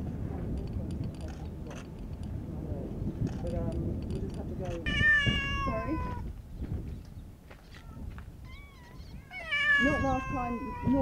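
On an Abu Dhabi island home to stray cats, a kitten gives several high, thin meows in two close bursts, heard nearby over a low outdoor rumble and background talking.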